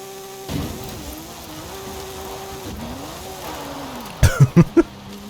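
A car in Forza Horizon 5 holds a steady engine drone that dips and climbs as it is driven fast, ending in a quick burst of four loud thumping impacts.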